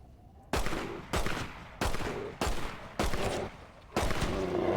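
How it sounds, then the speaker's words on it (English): Six loud gunshots from Red Dead Redemption fired at a grizzly bear, evenly spaced sharp cracks with ringing tails, close and alone. "It takes 6 shots to kill a grizzly."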